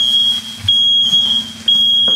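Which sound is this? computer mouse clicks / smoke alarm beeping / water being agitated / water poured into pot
smoke alarm beeping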